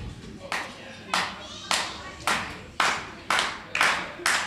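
Crowd at a WrestleForce live wrestling show in Loughton's Lopping Hall claps in seven sharp, evenly spaced bursts, each decaying quickly, with faint background murmur between.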